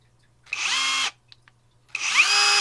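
Cat DX71 brushless impact driver with three speed settings, run in two short bursts of high-pitched motor whine that rise quickly in pitch, separated by a brief pause with faint clicks, loud and close.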